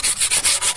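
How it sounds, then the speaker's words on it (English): Sandpaper rubbed by hand over painted wood in quick, even back-and-forth strokes, a loud close scratchy hiss repeating about five times with no talking. "just a little bit of sanding to hit those high points"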